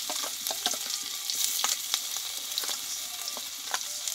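Panch phoron, asafoetida and crushed ginger frying in white oil in a kadai, giving a steady close sizzle with scattered crackles and pops throughout, no voices.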